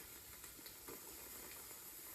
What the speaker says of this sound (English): So the pork's cooking away nicely, getting a lovely colour on there